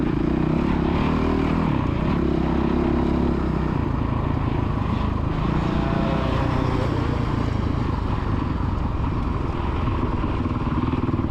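A kids' motocross motorcycle revs hard on the Astley MX main track, its engine droning loudly and continuously with shifting pitch as it powers round, alongside other engine noise and no clear talking.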